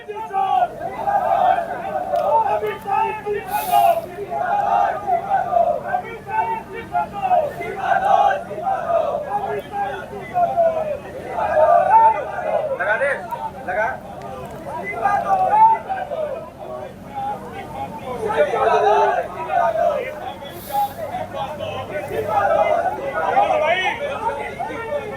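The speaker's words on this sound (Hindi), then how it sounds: "बेतहाशा भीड़ सड़क पर उतरी हुई है" A large street protest crowd chants slogans demanding Amit Shah's resignation, with loud, rhythmic chanting and crowd noise continuing throughout.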